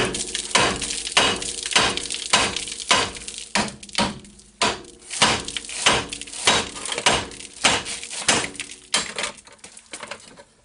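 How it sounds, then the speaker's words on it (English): A large hammer strikes a car's steering knuckle again and again to free the tie rod, giving loud, sharp metallic blows in a steady rhythm close by. "You're going to want to hit on what it goes through, this knuckle."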